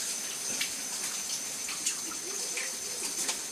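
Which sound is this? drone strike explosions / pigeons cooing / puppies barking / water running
water running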